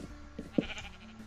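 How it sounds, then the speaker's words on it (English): Sheep in a video game bleat once, a short faint call heard on its own with no talk over it. "Ooh, sheep."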